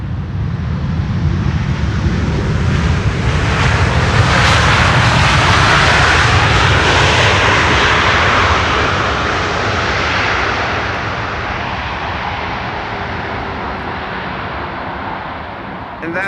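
An American Airlines Boeing 787 Dreamliner returning from Philadelphia roars loudly overhead on approach to Schiphol's Polderbaan runway, a broad rushing engine drone that swells, peaks and slowly fades as it passes.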